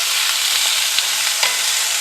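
Vegetables frying in a pan for a Cajun shrimp and chicken Alfredo pasta, a steady close sizzle with a few soft scrapes of stirring, no talking.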